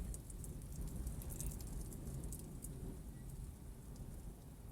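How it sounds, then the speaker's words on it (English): Steady rain falls throughout with low rumbling thunder underneath, a continuous wash of hiss and deep murmur at moderate level, no voices present. "is that thunder?"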